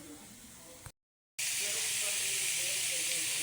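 Cuttlefish simmering in a pot on the stove give a steady, loud hiss of steam and bubbling that resumes after a brief gap of silence, with a voice faintly under the earlier part.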